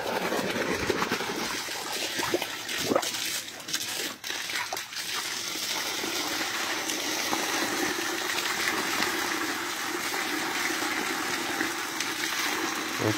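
Water gushing steadily from a freshly drilled well in Kılıçlar village, Kahramankazan, Ankara, a loud continuous rushing roar with a few voices early on.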